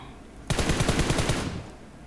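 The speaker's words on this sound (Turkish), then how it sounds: "Farklı yerden sıkan oldu." Automatic gunfire in PUBG Mobile, a sudden rapid burst of about ten close, loud shots over roughly a second, then fading.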